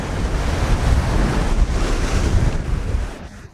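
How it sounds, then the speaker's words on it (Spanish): Waves breaking over small rocks along a Caribbean coast near Cancún, a steady loud rush of surf with wind buffeting the microphone, easing slightly at the end. "Estas son pequeñas rocas donde rompen las olas"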